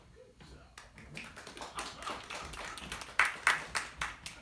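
Scattered hand claps at a magic show building into a small round of applause, starting sparse and growing louder and more regular toward the end.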